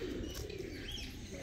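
Jumbo-size American fantail pigeons cooing at a fancy pigeon show in Gujarat, a low, steady, continuous murmur close by with no voices.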